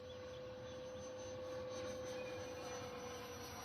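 A Freewing Eurofighter Typhoon RC jet fitted with an FMS 90mm 1900kv EDF unit flies with thrust vectoring, giving a steady, sustained ducted-fan whine and rush of air, constant in loudness with a fixed high tone throughout.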